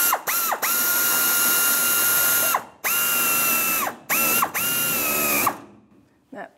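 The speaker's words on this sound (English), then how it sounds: "Now with my 8 millimeter socket or 5/16, I'm going to snug up the bracket clamp." Ratchet wrench with an 8 mm socket snugging a fuel tank bracket clamp on a 1992-1996 Ford F-150: four bursts of fast, steady pawl clicking, close and loud, separated by brief pauses, with a faint knock at the end.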